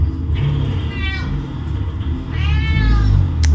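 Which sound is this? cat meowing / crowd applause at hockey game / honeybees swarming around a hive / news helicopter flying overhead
cat meowing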